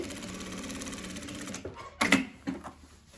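A sewing machine runs a straight seam through fabric in a steady whirring rattle for about a second and a half, then stops with a few clicks and knocks as the work is adjusted; close, no talking.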